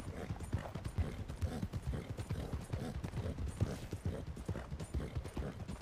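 Horse hooves clip-clop steadily in a Western-style video game, a brisk rhythmic trot of repeated thuds over a busy low background, fairly close and continuous throughout.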